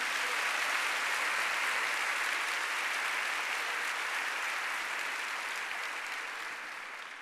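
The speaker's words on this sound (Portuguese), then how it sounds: "Então aplauda esse superior aí." A church congregation at a Sunday morning Baptist service claps together in a broad, continuous wash of applause that holds steady and tapers slightly at the end.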